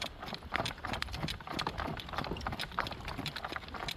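A young horse trots with quick, even clip-clop hoofbeats at close range, steady and moderately loud over rustling outdoor background, with no talking.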